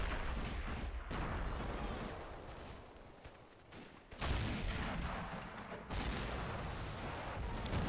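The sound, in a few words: artillery shells firing and impacting in a video game battle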